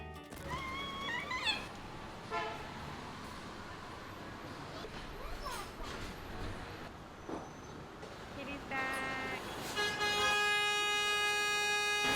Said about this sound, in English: City noise all around.